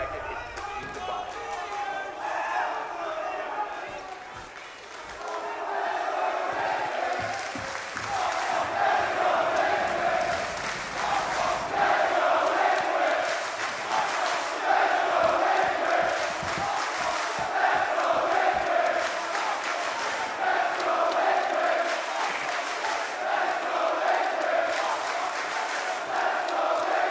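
A packed esports arena crowd at a Counter-Strike major quarterfinal between FURIA and Team Liquid in Manchester roars continuously and loudly, with swelling cheers and chanting, while a commentator speaks over the din.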